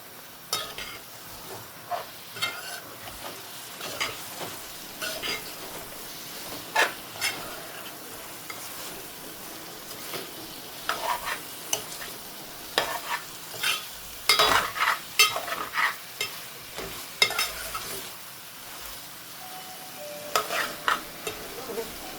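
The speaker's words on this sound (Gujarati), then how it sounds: "આવી રીતના મસાલો સાતળવા દેવાનો." Masala spices sauté in a pan for a dried shrimp curry, a soft steady sizzle broken by repeated scraping and clinking strokes of a spoon, fairly quiet and close.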